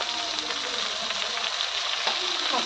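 Roselle pods (puntikayalu) dropped into hot oil and frying, a soft continuous crackling sizzle with small pops, fairly quiet and close.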